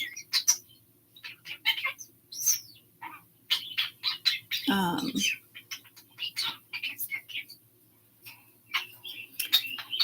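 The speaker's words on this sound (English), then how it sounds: "Let me turn the birds down." Several birds chirp and squawk in quick, irregular bursts, with one harsh, louder call in the middle and a faint low hum underneath.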